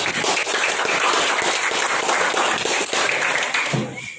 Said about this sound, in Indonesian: Silakan tepuk tangan buat kelompok.